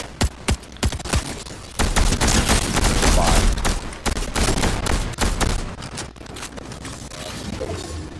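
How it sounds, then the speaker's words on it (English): Gunfire in the Fortnite video game, with dense bursts of rapid shots and sharp single cracks crowding most of the stretch, loud and close, with no talk over it. "they're shooting at me already."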